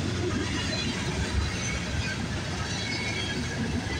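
CSX freight train M635 with engines 5283, 5249 and 2003, bound from Selkirk, New York to Columbus, Ohio, rumbling past in a steady low roar with faint wheel noise, constant and moderately loud.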